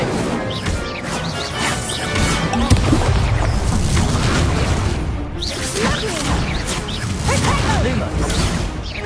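A fire spell cast in the Hogwarts Legacy video game: a burst of crackling, whooshing magical flame effects amid a dense, busy game soundscape, with a voice calling out spells over it.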